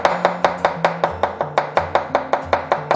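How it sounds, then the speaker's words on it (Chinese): A knife mincing fresh ginger on a cutting board: quick, even, close chopping taps, about five per second, crisp and alone. "一小块生姜切末"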